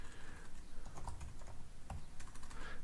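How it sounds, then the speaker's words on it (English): Typing on a computer keyboard, scattered soft key clicks at a moderate pace over a faint steady background, no voices. "If I can type."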